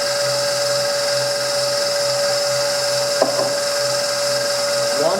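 An electric mixer whirs steadily while mixing biscotti dough, a constant high-pitched motor whine with a low hum beneath and a couple of faint clicks, running without talk.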